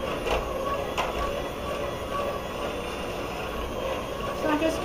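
An electric mixer beats cake-mix cookie dough, running at low or medium speed as a steady, fairly close whirring motor drone with faint scraping bumps through the bowl, no talking over it.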